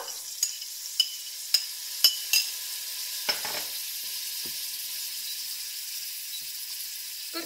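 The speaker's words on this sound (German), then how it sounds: "Jetzt gebe ich geschnittene Minzblätter." Chopped mint leaves fry in a pan with oil and curry leaves for an Indian turkey breast curry, a constant close sizzle punctuated early on by a run of evenly spaced sharp taps from stirring.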